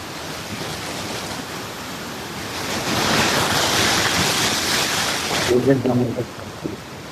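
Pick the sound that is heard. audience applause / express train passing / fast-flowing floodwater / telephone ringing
fast-flowing floodwater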